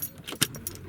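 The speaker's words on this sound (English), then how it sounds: "take the key out" Car keys jangle briefly close by as they are pulled from the ignition, a quick metallic rattle with one sharper clink.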